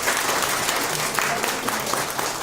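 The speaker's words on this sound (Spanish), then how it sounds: "un aplauso al hermano." A church congregation applauds a fellow member, with sustained, fairly loud clapping from many people indoors, steady throughout with a faint murmur underneath.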